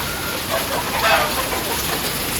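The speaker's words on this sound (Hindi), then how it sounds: "बारिश इतनी तेज स्टार्ट हो गई है।" Steady broadband hiss of heavy monsoon-style rain pouring down, continuous and dense throughout with a slight swell in the middle, no voices.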